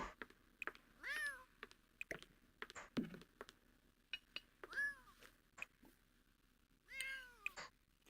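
Several clear cat meows in The Sims 4, three drawn-out calls spaced a few seconds apart, with soft clicks and drips between them and no talking.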